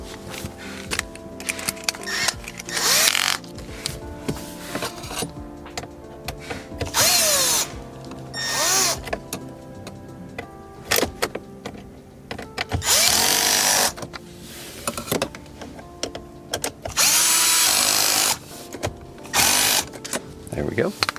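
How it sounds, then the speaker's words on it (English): A cordless power drill runs in repeated short bursts, driving screws during a car stereo installation in an Acura TL dash, with speech between the bursts. "And then we'll use the drill to tighten those up."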